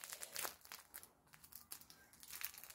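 Close, quiet crinkling and crackling of plastic packaging on a knitting machine being punctured, in irregular bursts, like it is being poked and torn; no voices.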